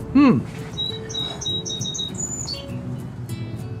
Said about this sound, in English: Amongst my garden, my flowers, my trestle, the birds singing.